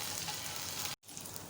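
Ginger garlic paste frying in oil for samosa filling, a soft, continuous sizzle with a momentary cut to silence before it resumes, no voices.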